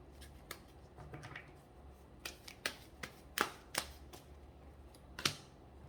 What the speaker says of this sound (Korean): 여기에서는 좋은 카드 하나 뽑아보겠습니다